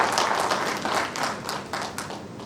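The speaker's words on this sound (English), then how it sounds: "Can we give him a round of applause?" An audience applauds during a university conference opening ceremony, a steady, dense patter of many hands clapping at moderate distance throughout.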